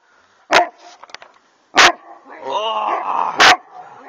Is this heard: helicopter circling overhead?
no